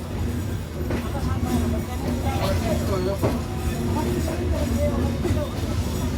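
A passenger train pulls away from Bheramara railway station with a continuous rumbling roll and faint clatter from aboard, while a voice talks over it.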